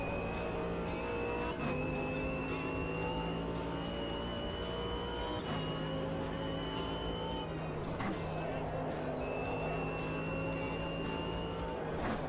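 Race car engine in the Automobilista 2 racing game, a steady droning whine with gear-change steps and brief tire squeal, loud and continuous beneath someone talking.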